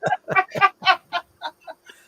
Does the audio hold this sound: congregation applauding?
no